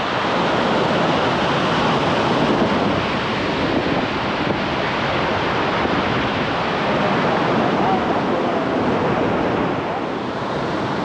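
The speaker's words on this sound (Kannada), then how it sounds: "ವಾಟರ್ ಫೋರ್ಸ್ ಹೆಂಗಿದೆ ಅಂತಂದ್ರೆ ನಮಗೆ ತಲೆ ಒಂಥರ ದಿಮ್ ಅಂತೈತೆ" Rushing water roars in a loud, unbroken wash of noise, like standing near a powerful waterfall.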